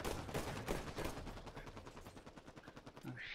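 Rapid automatic weapon fire in a Halo 5 Guardians Slayer match, a steady, evenly spaced stream of shots that carries on throughout at moderate, slightly distant loudness, with no talking.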